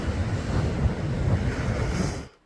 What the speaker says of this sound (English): You can hear the ocean, folks.